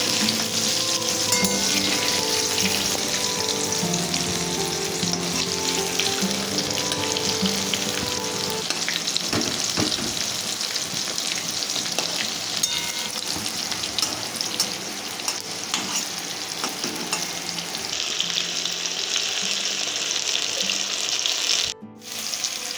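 Slices of bottle gourd fry slowly over a low gas flame in a pan, giving a continuous, dense sizzle that holds steady at close range for a long stretch, with a brief dip near the end.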